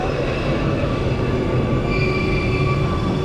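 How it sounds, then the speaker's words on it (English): An M52 metro train passes along the rails near Amsterdam Noord with a steady, loud rumble and a thin high squeal from the wheels, heard alone without voices. "That's not our train."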